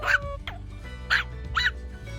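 A Yorkie dog gives a few short, high yips and whimpers close up, spaced irregularly over a low background hum, with no clear talk over them.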